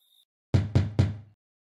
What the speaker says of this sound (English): I'm knocking like you the police.